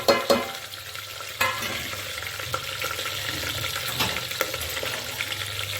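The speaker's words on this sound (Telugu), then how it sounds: "ఫస్ట్ ఆయిల్ వేసుకున్న తర్వాత ఆనియన్స్ అయితే వేసుకుంటున్నాను." Onions hitting hot oil with whole spices for mutton biryani, a steady sizzle and frying crackle with a few stirring scrapes and clinks, close and continuous throughout.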